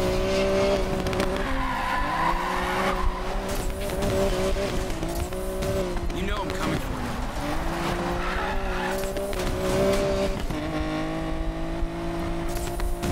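A racing car's engine drones with repeated tire skids and squeals in Need for Speed Payback, loud and continuous throughout with steady engine pitch shifts.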